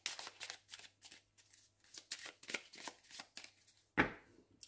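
A deck of Lenormand oracle cards is shuffled and cut by hand, close up, in a quick series of riffling, sliding bursts ending with one sharper slap of the cards.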